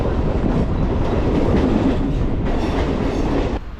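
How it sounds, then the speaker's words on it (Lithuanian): A Mumbai train running, heard from on board or close by: a loud, continuous rumbling roar with faint rhythmic clatter that drops off abruptly near the end. "Ok, spėjom į traukinį."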